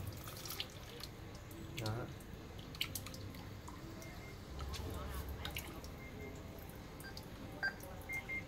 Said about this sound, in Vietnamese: Mình lấy nước axit đây.